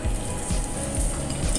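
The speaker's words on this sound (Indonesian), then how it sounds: "Goreng terlebih dahulu bawang bombaynya" Onion sizzling in oil in a frying pan while an egg omelette is prepared, a dense, steady crackle close up with no talking.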